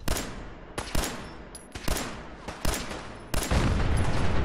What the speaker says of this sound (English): So many things are exploding.